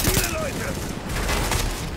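A gun turret firing in Tom Clancy's The Division video game, a quick run of loud, closely spaced bursts, with game sound effects and a voice heard in the mix.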